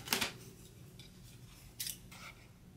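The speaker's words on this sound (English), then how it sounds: "And I'm going to cut it down." Scissors snip through a greeting card to trim it down with a narrow border, giving two or three short, crisp cuts close by in an otherwise quiet room.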